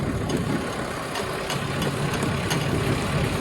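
A tractor engine idles steadily and loudly nearby, a deep continuous rumble with a faint rhythmic knock and no voices.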